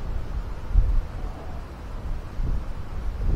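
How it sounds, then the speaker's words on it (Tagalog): Strong wind buffets the microphone outdoors with low rumbling gusts that swell and ease over a few seconds, loud and close with no voices. "malakas yung hangin dito sa amin."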